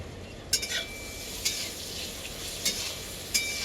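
Chopped radish fries with turmeric in a pan for a Bengali radish and lentil dal, a steady close sizzle broken by a few sharp clinks of a spoon stirring against the metal.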